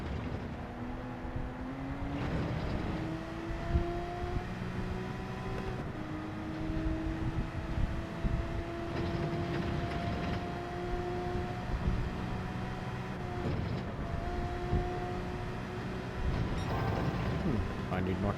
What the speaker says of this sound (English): these Porsche cars, they love to be revved hard